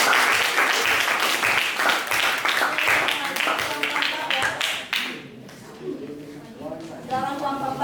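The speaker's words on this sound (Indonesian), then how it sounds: "tepuk tangan buat kelompok 3" A classroom breaks into applause for a student presentation group, a dense burst of clapping for about five seconds that fades out, with voices talking over and after it.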